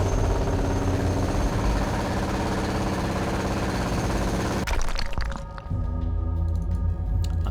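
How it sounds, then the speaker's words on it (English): Jackhammer breaking through a wall in Underrail, a loud sustained mechanical hammering that cuts off abruptly, followed by crumbling debris and a quieter rumbling tail. "Another jackhammer in here."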